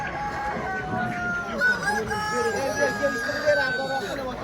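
Hens and roosters at a busy poultry market cluck and call over one another in a dense, continuous flock chatter, with nearby voices of traders talking underneath.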